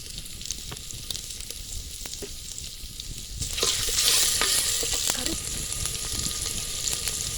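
Cinnamon, fennel and garlic sputter in sesame oil for a mutton gravy, a continuous close sizzle with scattered pops that rises sharply midway as more goes into the pan, then settles to a steady fry.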